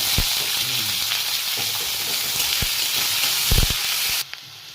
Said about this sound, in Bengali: পেঁয়াজটা অল্প লাল করে ভাজবো